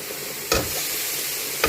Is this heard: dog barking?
no